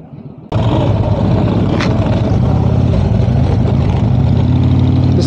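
A motorcycle named Basanti bursts into life after a brief quiet moment, then settles into a loud, steady, close idle with an even low rumble before setting off on a ride.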